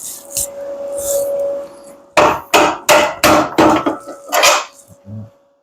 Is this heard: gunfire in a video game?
no